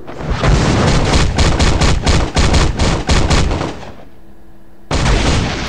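Skill explosion in the mobile game Marvel Future Fight: a loud rapid volley of booming blasts, a brief lull, then another burst of heavy impact noise.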